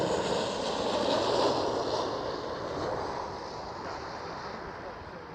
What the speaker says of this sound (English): There we go, KLM 737.